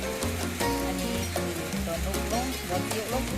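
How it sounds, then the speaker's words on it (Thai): Rain falls outside a house as a constant fine hiss, heard under voices and tonal sounds that run through the whole stretch. "นี่ก็บรรยากาศฝนตกนะครับก็อยู่บ้านนะครับ"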